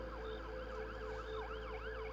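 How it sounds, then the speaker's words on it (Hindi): An ambulance siren wails in steady rising and falling sweeps on a road, loud and continuous with no talking. "जैसे ही एम्बुलेंस सड़क पर आगे बढ़ने लगती है"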